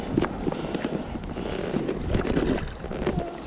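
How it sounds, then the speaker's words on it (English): Strong wind buffets the microphone beside water while fishing for wild brown trout from a rock, a loud continuous rumble and roar that surges and gusts with no speech. "because the wind's blowing so strong"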